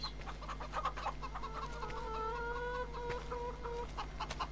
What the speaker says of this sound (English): How am I meant to avoid running over all these chickens?